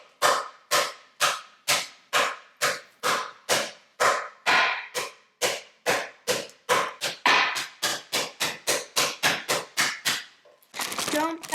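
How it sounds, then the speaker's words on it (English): Water chestnuts sealed in a Ziploc bag are pounded with a rolling pin: about twenty sharp, loud thuds in a steady, quickening rhythm, with a brief rustle of the plastic bag at the end and no talking. "we're going to take a rolling pin and start bashing."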